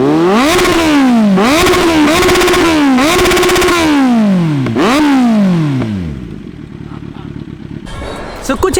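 A superbike engine is revved hard several times in quick succession, each loud rev rising and falling in pitch, before it winds down to a lower, rougher idle with a final short blip.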